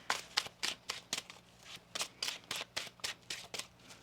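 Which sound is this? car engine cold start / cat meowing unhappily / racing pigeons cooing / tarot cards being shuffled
tarot cards being shuffled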